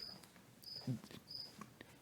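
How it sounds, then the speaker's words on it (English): Crickets chirp faintly indoors, a few short high trills scattered across a quiet room with low background noise and no talk. "Fucking bugs. Crickets."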